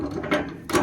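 A wrench ratchets in a couple of quick clicking bursts while a 1-inch male adapter pipe fitting is tightened at an indirect water heater and boiler setup, up close.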